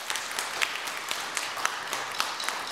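Audience applause for the conductor of a big band: a fairly quiet, continuous patter of many hands with a few sharper individual claps standing out, with no voices.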